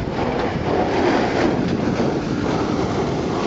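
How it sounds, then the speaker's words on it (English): A mountain railway train near Interlaken, Switzerland, sets off down a steep gradient toward Grindelwald, a steady broadband rumble mixed with gusty wind noise on the microphone. "And that train starts on its way down to Grindelwald"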